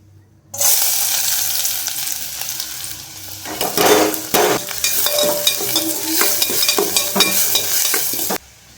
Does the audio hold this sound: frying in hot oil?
yes